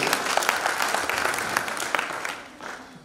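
Enthusiastic applause from an audience at a positive parenting talk, a dense steady wash of many hands clapping, close and loud, easing slightly toward the end.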